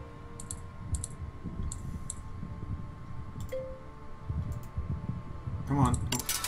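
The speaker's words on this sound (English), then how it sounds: "I like the new noises that Shaz put in for when I click things." Interface clicks from the strategy video game Legends of Callasia sound as short, crisp ticks scattered across the stretch, with a brief tonal blip and a burst of sparkly effects near the end, under steady talk.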